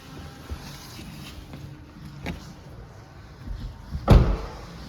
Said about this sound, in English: I'm gonna close this door here.